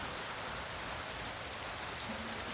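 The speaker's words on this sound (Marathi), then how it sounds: "पाऊस येतच आहे" Steady rain falls outdoors, a constant, even wash of hiss with no breaks or changes and no voices.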